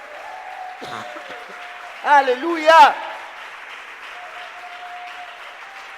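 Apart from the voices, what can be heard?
applause in church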